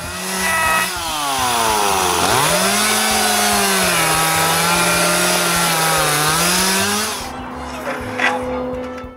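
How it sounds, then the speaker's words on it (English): A chainsaw cuts through fallen wooden shop walls, loud and close, its engine pitch dipping under load then rising again before cutting off near the end. "I cut them with the chainsaw."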